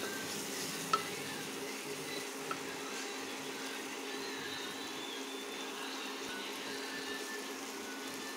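Ingredients sautéing in a pan, with turmeric and salt among them, while preparing egg macaroni: a soft, continuous sizzle with light stirring scrapes, close but low in level, a couple of faint clicks early on.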